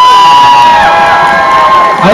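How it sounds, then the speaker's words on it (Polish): An audience at a dance competition cheers and claps for the dancers, loud and close, with shouts, whoops and high voices over a bright, ringing tone. "Wielkie brawa!"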